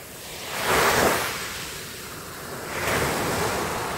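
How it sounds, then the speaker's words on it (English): AI-generated ocean waves roll in twice, each surge swelling into a broad hissing wash of surf before easing back, loud and close with some wind rumble between the breakers. "this clip is about the ocean, and you can see those waves coming up, and every time they are coming in, we have that sound effect happening"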